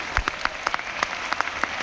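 An audience at an RCM gathering in Delhi claps enthusiastically, with sharp individual claps standing out over a steady, dense wash of applause throughout.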